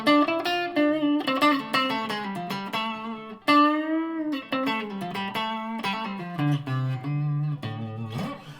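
A Japanese FGN Iliad Telecaster plays clean through an Orange amp with no effects, picking a melodic line of distinct plucked notes and bends, close and alone.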